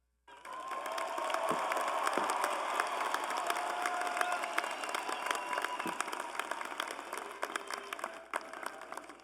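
Commencement ceremony crowd at Florida State College at Jacksonville claps in sustained, dense applause with faint cheers, filling a large venue for several seconds before tapering slightly.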